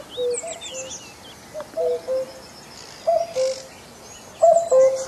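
A common cuckoo call played as a lure sounds in repeated clear two-note phrases, loud and close, with other birds chirping faintly around it.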